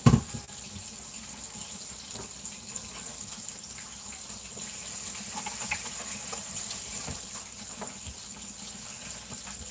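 Tap water runs steadily into a sink with a soft hissing splash, punctuated by faint clinks and rustles of items being rinsed.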